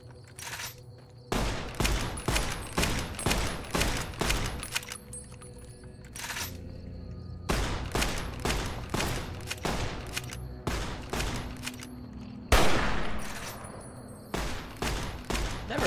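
Automatic gunfire rattles through a video game in long, rapid bursts separated by short pauses, loud and close. One heavier, noisier blast breaks in near the end, and no one speaks.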